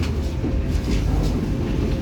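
Sembrani passenger train at Semarang Tawang station, heard as a steady low rumble of rolling carriages with faint rail noise, continuous and fairly loud, no talking.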